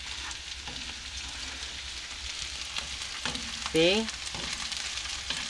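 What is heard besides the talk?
eggs frying and being tossed in a pan for fried rice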